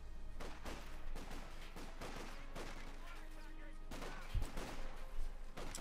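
Machine gun fire and explosions in a Company of Heroes 2 battle on a farmland map, repeated bursts of gunfire and booms at a steady low level throughout.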